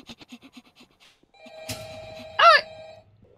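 A phone rings in the security office of a Roblox Five Nights at Freddy's game: a steady electronic trill that holds for about a second and a half, then a short warbling burst, with no talk over it.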